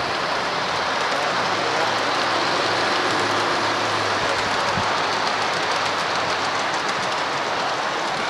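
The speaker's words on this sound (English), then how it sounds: "So here comes the next train down the track." Model train running along the track at a railway hobby show, a steady continuous rolling rumble with faint clicking over the full length, with no talk.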